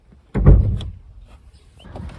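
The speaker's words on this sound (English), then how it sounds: "you want to open the driver's door" Driver's door of a right-hand-drive Audi A3 opens with a solid mechanical clunk and thump, close and loud, followed by faint rustling and handling noises.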